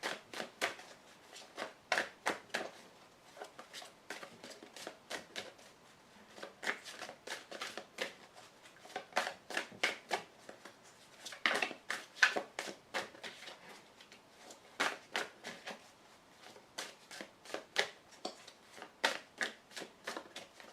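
Tarot cards cut and drawn from a deck, a long run of crisp riffling snaps and papery flicks in quick bursts, close and fairly quiet, with no talking.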